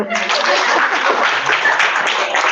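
Audience applause at a political organisation's meeting in Khammam, Telangana: a sustained wash of many hands clapping at steady volume, with faint chatter and a few voices mixed in throughout.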